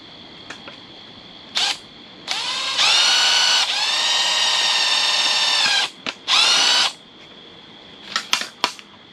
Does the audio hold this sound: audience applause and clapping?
no